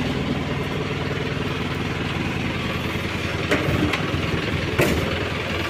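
Restored Isuzu Panther turbo pickup diesel engine idling steadily after a restoration, a continuous close, rough, even rumble with a couple of faint clicks and no speech.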